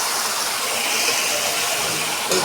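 Meat being stirred into fried potatoes in a pan, giving a steady loud sizzle and hiss that fills the whole stretch without a break.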